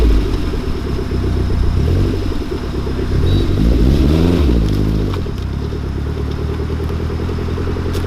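A turbocharged VW Gol 1.6 engine running loud and close, revving up in a rising sweep partway through and then settling back to a rough, steady drone.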